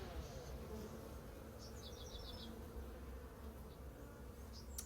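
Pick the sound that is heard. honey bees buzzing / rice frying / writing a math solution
honey bees buzzing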